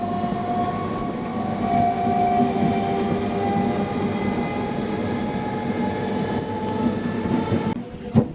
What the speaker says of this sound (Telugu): మల్లెమడుగు నుంచి మన ట్రైన్ బయలుదేరిపోయింది.